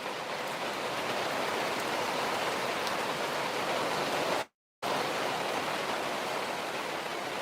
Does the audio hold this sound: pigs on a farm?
no